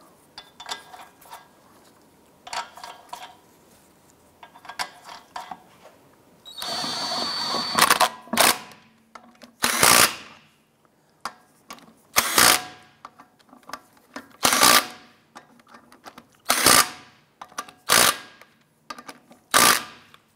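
A ratchet or impact tool tightens lug nuts on a 2001-2007 Ford Escape wheel, giving a series of loud, evenly spaced mechanical bursts with short quiet gaps between them.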